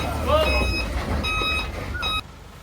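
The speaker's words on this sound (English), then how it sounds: "they just turned the truck around so they can get the bags of feed from the other side of it" A feed delivery truck turns around at a chicken farm, its reversing alarm sounding as repeated evenly spaced beeps in short bursts over a low engine rumble, ending abruptly.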